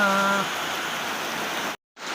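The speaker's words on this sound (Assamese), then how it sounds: "বহুত দিনৰ মূৰত আজি বৰষুণ দিছে ভাই" Steady hiss of rain falling in wind, after a brief tone at the start, cutting out for a moment near the end.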